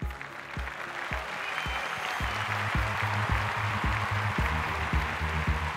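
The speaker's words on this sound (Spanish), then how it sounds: "Recibamos también con un fuerte aplauso a nuestro amigo Rey Armas" An audience at a televised talent show final in Venezuela bursts into applause, sharp rhythmic claps that start sparse and build into a fuller, steady clapping that carries through to the end.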